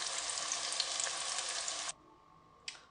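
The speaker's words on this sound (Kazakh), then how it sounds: "чеснок, лук, болгарский перец үшеуін қуырамыз" Garlic, onion and bell pepper frying in oil, a loud, even sizzle that cuts off abruptly, then a short burst returns after a pause.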